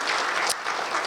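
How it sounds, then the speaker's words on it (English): Audience applause at a dinner event, a dense steady burst of clapping lasting about a second, briefly swelling loud midway before settling back into even, close clapping. "give him a round of applause"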